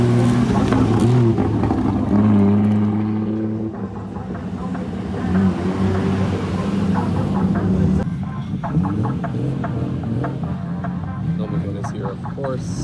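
Nissan Skyline R34 cars pull into the pits at Fuji Speedway, their engines a loud, steady rumble and drone that shifts in pitch as they move past nearby, while a person talks over it.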